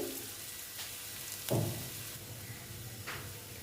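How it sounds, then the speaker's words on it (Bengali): Onion frying in a small amount of oil in a home kitchen, a faint steady sizzle with a few louder stirring clatters. "দেখো পেঁয়াজটা ভেজে নিচ্ছি"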